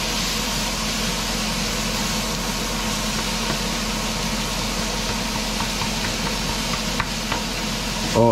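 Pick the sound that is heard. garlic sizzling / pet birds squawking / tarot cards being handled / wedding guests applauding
garlic sizzling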